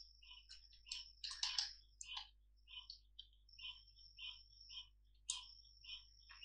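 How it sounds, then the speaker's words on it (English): Someone types names into a computer keyboard while writing a Python for loop: quiet, close keystrokes in irregular bursts of rapid clicks with short pauses, and no talking. "So I'm just typing some names of my friends"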